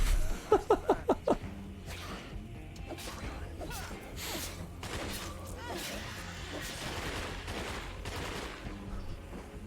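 Unsilenced weapons fire at zombies in State of Decay on nightmare mode: a quick string of five sharp, loud shots at the start, then a busy, noisy game mix of impacts and scuffles with voices underneath.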